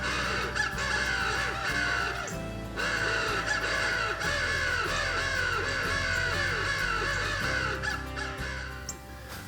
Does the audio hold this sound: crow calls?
yes